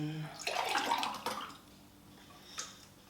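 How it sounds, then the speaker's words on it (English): Eggnog pours from a bowl into a cup in a brief, close liquid splash lasting about a second, followed by a faint trickle and a small clink. "So I'm just going to take the bowl and pour the eggnog"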